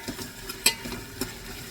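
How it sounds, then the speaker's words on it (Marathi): Tomatoes sautéing in a pan for prawn biryani, a faint, soft sizzle broken by a few light scrapes and taps of a spoon against the pan. "त्या टोमॅटो पण मी परतून घेते"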